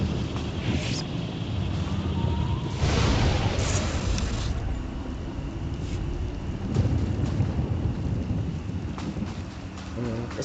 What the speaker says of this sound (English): The storms are fierce today.